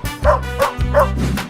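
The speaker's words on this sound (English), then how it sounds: "dog," A dog barks three times in a quick, evenly spaced series of loud, close woofs with a slightly yelping, whimpering edge, amid a playful animal-sounds sequence.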